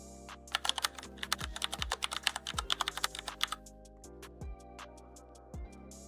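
Keys clack on a computer keyboard while a web auction listing form is filled in, a quick irregular burst of typing followed by sparser, slower keystrokes, close and moderately quiet with no talk.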